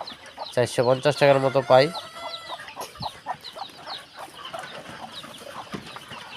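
Native desi chickens cluck and call around a home poultry farm shed, with repeated short calls scattered through the clip; someone talks over them near the start.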